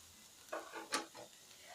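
Egg keema fries in a pan with spices, a faint sizzle broken by a few soft stirring scrapes and clinks of a spoon against the pan, quiet and brief with no talking.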